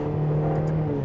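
A Ferrari California with a dual-clutch gearbox revs hard, its engine holding a steady, loud drone throughout, with a couple of brief crisp blips that may be gear changes.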